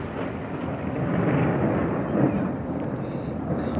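Thunder following a sharp lightning strike on a dark day outdoors, a loud sustained broadband rumble that swells in the middle and stays heavy to the end, with no speech over it.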